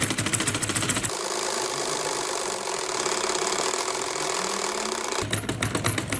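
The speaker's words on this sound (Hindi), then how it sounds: "अब मैं शर्ट की सिलाई करने लगी।" A sewing machine stitches the side seams of a baby boy's shirt with a steady, close motor whir that runs for several seconds, bracketed by lighter mechanical clatter.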